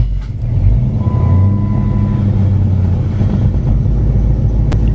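A Dodge or Chrysler car such as a Magnum, Charger, Challenger or 300C, just started while in neutral, idles with a steady low rumble close by. There is no talk.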